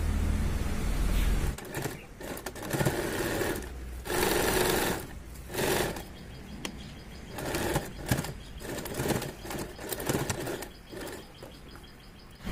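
A sewing machine runs in repeated bursts while stitching the waistband belt of Patiala pants, loud and close, with short stops between runs.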